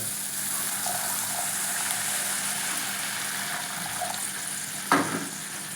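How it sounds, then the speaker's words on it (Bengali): Water poured into a pan of fried spices for a spicy pomfret fish curry, a continuous close hissing and splashing wash with a sharp sizzle burst near the end. "এখানে আমি দিয়ে দেবো জল"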